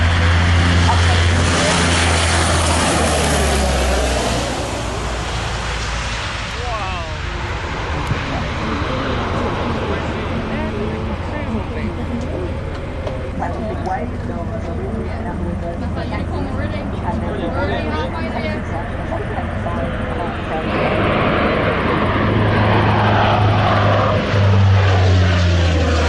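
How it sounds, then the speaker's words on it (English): A propeller aircraft flies low and fast over an airfield at the Wings over Wairarapa air show, its engine roar loud and steady throughout, swelling and fading as it passes. "So staying low to the ground, using that ground effect to accelerate the aircraft."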